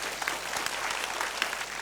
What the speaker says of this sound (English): give a big round of applause for Team Moji